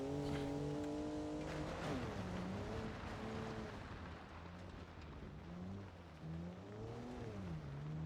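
A pickup truck in a car-building racing game drives with engine note rising and falling, tires squealing and spinning under light throttle, loud and continuous with no talk.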